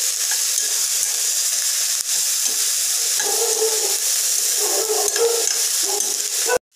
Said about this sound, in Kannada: ಒಂದು 2 ನಿಮಿಷ ಹೈ ಫ್ಲೇಮಲ್ಲೇ ಇದನ್ನು ಮಿಕ್ಸ್ ಮಾಡ್ಕೊಬೇಕು